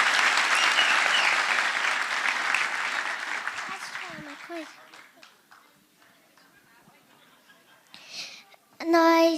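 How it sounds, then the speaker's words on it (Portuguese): Enthusiastic applause from a lecture audience in Curitiba, loud at first and gradually fading out, followed by a few scattered sounds and a brief burst of voices at the end. "Uma salva de palmas, então, para essas 2 famílias aqui."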